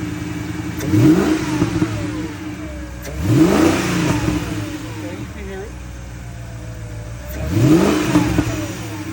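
A Mercedes CLS55 engine, before a custom cold air intake is fitted, revs three times in spaced bursts, each rising then falling back to a steady idle, close up with a throaty intake sound.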